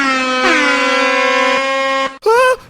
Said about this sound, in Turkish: Bu elimdeki havalı korna sayesinde arkadaşlar Tarık'ı yatağından fırlatacağım